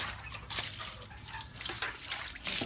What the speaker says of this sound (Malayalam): പിന്നെ നമ്മൾ വെള്ളം പാത്രത്തിലേക്ക് ഒന്ന് ഒഴിച്ചു കൊടുക്കുന്നു.